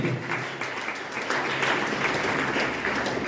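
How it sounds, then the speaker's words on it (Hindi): An audience claps at an awards ceremony, a dense, even patter of many hands sustained for a few seconds at moderate loudness with no voices. "तालियां बजती रहे और तालियां कम से कम इतनी बजनी चाहिए कि उत्कर्ष और प्राची तक पहुंचे।"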